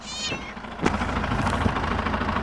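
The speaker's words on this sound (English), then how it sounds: "This cat was abandoned about 2 or 3 years ago, and I feed it every day on the round." A stray cat gives a single close, clear meow, followed by a steady low rumble in the background.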